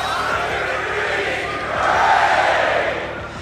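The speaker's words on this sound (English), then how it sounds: "You can hear that crowd. You can hear the excitement, everyone." Large crowd at an Awesome Games Done Quick speedrun event roaring and cheering, a broad sustained wash of voices that swells toward the middle and then eases off.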